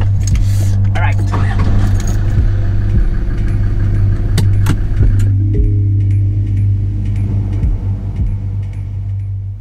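Car driving along a road through rural France, a steady low engine and road rumble throughout, with brief clicks and rattles inside the cabin.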